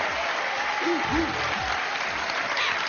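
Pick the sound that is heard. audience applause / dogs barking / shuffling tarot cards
audience applause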